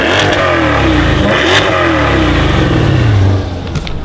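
A 2020 Chevrolet C8 Corvette engine, a new car with about 10 miles on it, revs hard in a long rising throttle blip, loud and close, then settles toward idle near the end.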